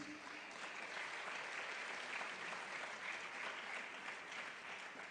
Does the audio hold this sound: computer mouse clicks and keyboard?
no